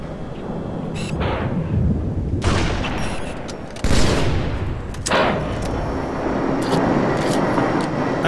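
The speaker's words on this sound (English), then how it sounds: "I love being in the air and shooting like sniper shots and battle rifle shots" Sniper rifle and battle rifle shots ring out in the Halo video game, with loud, sharp cracks repeating irregularly over a constant rumble of ambient noise.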